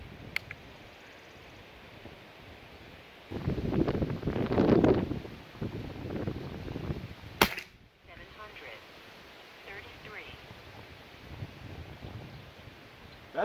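A Seneca Dragonfly Mk2 air rifle fires a single sharp shot, followed by a quiet outdoor background with faint rustling and light wind noise.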